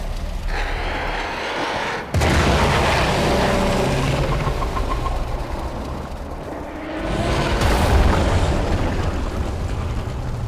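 An explosion in the video game Warframe, a sudden loud blast that opens into a long, roaring rumble lasting several seconds, then surges again into a second heavy burst.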